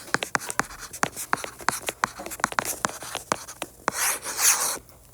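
Marker or chalk strokes tap and scratch on a board while an equation is worked out, a quick irregular series of short close scrapes with a longer rubbing swipe near the end, no talking.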